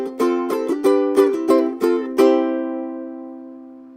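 Ukulele strumming the tag chords of a song: a run of bright, evenly spaced individual strums, then a final chord left to ring out and fade, close and clear with no voice.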